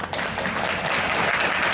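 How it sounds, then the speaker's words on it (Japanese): Outdoor festival crowd clapping for a live stage performance at a food fair in Kurayoshi, Japan, a brief burst of steady applause heard from the audience area. "ちゃんと拍手お願いします。"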